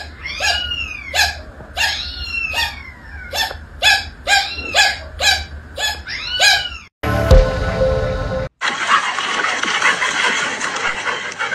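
A dog barks repeatedly in a steady, rhythmic series of sharp, close barks, followed by a few seconds of louder, harsher noise with no further barking.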